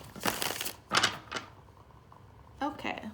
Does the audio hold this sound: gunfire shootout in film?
no